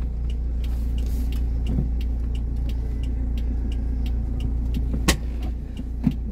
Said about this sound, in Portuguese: Jogando a primeira marcha.